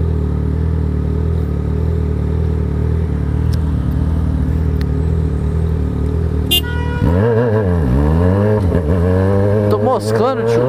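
A Honda Hornet motorcycle carrying a passenger idles with a low rumble, then its engine is revved hard in repeated rising and falling surges, loud and close, with a horn-like blip and voices around it.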